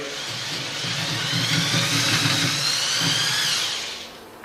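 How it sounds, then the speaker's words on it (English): A power drill with a 10mm bit bores through the bed of a bicycle rim, a steady loud whine with a low motor hum that holds for several seconds, then tails off. "We're going to use a 10mm drill bit."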